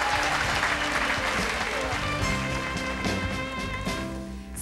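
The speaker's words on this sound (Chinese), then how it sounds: "掌声鼓励。" An audience applauds on a 1997 Taiwanese TV music chart show. The clapping is loud, dense and sustained throughout, with a voice speaking over it.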